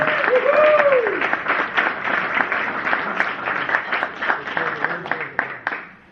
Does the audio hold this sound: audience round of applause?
yes